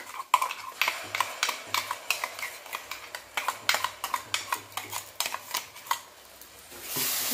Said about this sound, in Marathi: आता कांद्याचं वाटण टाकून घेऊया.